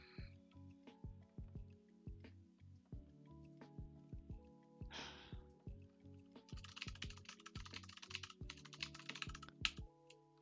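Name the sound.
typing on a computer keyboard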